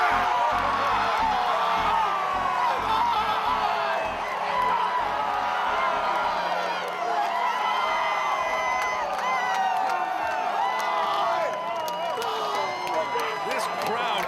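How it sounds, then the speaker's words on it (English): A baseball crowd cheers loudly after back-to-back home runs, with sustained roaring, whoops, shouts and some clapping throughout, and voices calling out over the din. "This crowd has erupted."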